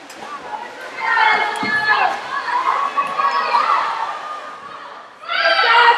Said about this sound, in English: both teams with their swimmers at the far end of the pool cheering on their teammates here